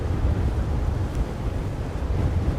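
Wind buffets the microphone atop a tall hill on a cloudy, cold, overcast day, a steady low rumbling roar with no voices.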